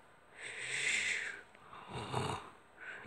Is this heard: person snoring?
yes